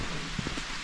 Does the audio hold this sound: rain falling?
yes